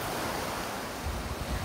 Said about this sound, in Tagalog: Ito yung dagat sa amin.